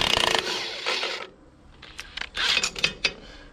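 Metal ratcheting and wrench clicks while bolts are loosened on a Krone hay rake, a few short bursts of mechanical clatter close by with brief pauses, no talking.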